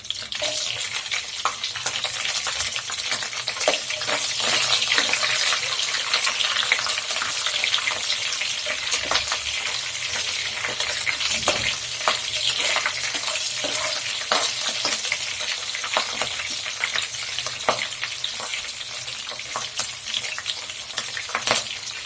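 Green chilies fry in a pan with a loud, continuous crackling sizzle that stays close and even throughout, with occasional sharper pops.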